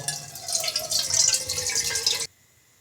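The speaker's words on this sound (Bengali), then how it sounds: "এখানে আমি ভাপা পিঠার পাতিল নিয়েছি এবার এর মধ্যে আমি পানি দিয়ে দিব" Water is poured into a pot for steaming vapa pitha, a close, splashing pour lasting about two seconds before it stops abruptly into near silence.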